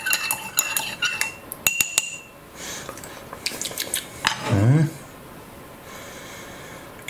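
An MRE ration meal, a British Army 24-hour Type 5 pack, is stirred in its pouch with a utensil, giving a few scraping and clinking strokes, close and moderately loud, between quieter pauses.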